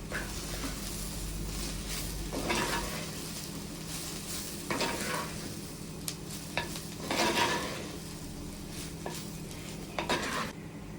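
Sliced bitter gourd sizzles softly in a pan while a spoon stirs and scrapes it at irregular moments, quiet and close with faint clinks of metal on the pan.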